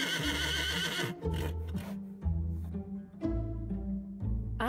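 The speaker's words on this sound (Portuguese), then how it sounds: "o cavalo listrado, ou melhor, a zebra" A zebra, the striped horse, gives a loud, close whinnying call. It repeats in several braying bursts with deep pulsing lows and harsh upper tones, and nothing else is heard around it.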